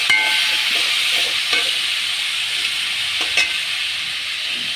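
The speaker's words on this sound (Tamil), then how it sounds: "இதே கத்திரிக்காய் போட்டு வதக்கிக்கணும்" Brinjal sautéing and being stirred in a pan for a Tamil-style kootu curry, giving a continuous loud sizzle and hiss with a few scraping strokes.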